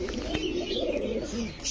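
A Bagha pigeon at a pigeon farm gives low, rolling coos that run steadily throughout, fairly close, with faint background noise and no clear talk.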